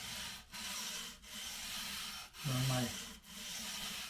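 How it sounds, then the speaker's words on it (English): Guitar frets on a Telecaster build being rubbed with 320 grit sandpaper, a quiet rhythmic scratching in steady back-and-forth strokes with short pauses between passes, close up. "So this is 320 grit sandpaper."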